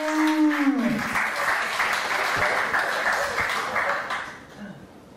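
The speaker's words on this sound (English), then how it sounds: "So give a great round of applause." Applause from a demo day audience welcoming a local three-founder startup team, a dense continuous clapping wash that starts under a trailing voice and fades near the end.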